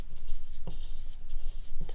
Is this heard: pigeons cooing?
no